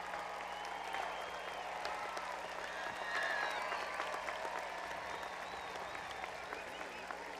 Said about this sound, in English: Seniors, let's give your parents a round of applause.